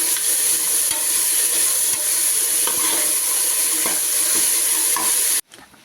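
Ingredients with frozen sweet corn sizzle steadily while being stirred and mixed in a hot frying pan, with occasional scraping clicks of the spoon; the continuous frying hiss cuts off abruptly near the end.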